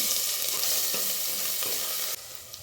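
Garlic and ginger paste sizzles in hot oil in a pan while rajma curry is being cooked, a steady loud hiss and crackle that drops slightly near the end, with no talk over it.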